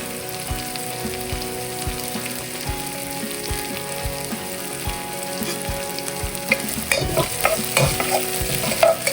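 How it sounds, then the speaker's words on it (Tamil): Chicken curry base sautéing in a pan, a loud continuous sizzle with regular spatula taps and scrapes that grow busier and more clattery toward the end, no talking. "நல்லா வதங்கட்டும். பாருங்க இப்படி வதங்குற ரெண்டு."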